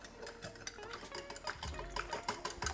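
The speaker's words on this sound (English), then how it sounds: "So just give that a whisk." Stock whisked with salt and olive oil in a bowl: a quick, steady run of light clinks and scraping strokes, close and fairly quiet, with no talking.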